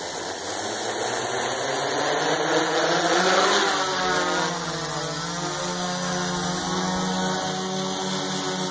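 Propellers of a Scorpion FPV model aircraft fitted with larger props, cameras and LED lights whine steadily during a test flight, a loud continuous motor drone that rises and falls in pitch with no talk.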